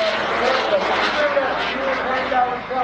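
A small jet airplane at a lakeside airshow gives a loud, steady roar close overhead while a voice talks over it.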